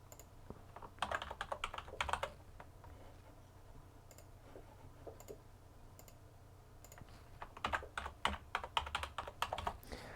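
A short password is typed on the keyboard of a Lenovo V530-22ICB all-in-one desktop: two close bursts of quick key clicks separated by a quieter pause over a low steady hum.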